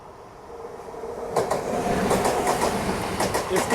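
Rhythmic clickety-clack of an Amrit Bharat passenger train running on track at night near Thiruvananthapuram Central in Kerala, steady rolling rumble with repeated wheel-joint clicks, fairly loud and close, no talking.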